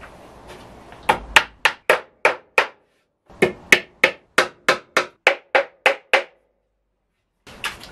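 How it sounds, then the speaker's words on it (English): A hammer drives nails into a wooden workshop stool: sharp, loud strikes in two steady runs of about eighteen blows, with a short pause between and one more knock at the end. "so I might as well just go full animal and just whack nails into it everywhere."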